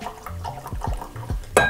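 Pennypacker sour mash bourbon, mixed as a Manhattan, pours into a glass at a tasting table, with short glassy clinks and liquid splashes ending in a bright ring.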